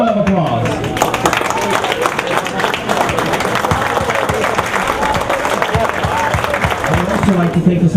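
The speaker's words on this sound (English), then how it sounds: "receive a great round of applause" A crowd applauds steadily for several seconds, dense clapping that stays loud throughout with some voices mixed in.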